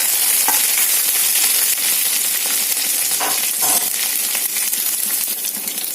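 Curry leaves, drumstick leaves and green chillies crackle and sizzle steadily in hot oil for a curry, a dense close hiss with a few sharper pops.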